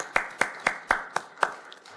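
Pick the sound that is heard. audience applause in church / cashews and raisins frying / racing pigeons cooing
audience applause in church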